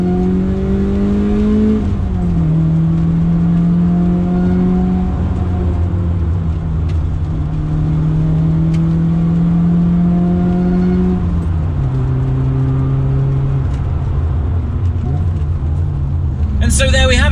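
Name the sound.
BMW E30 M3 Cecotto edition engine revving through gear shifts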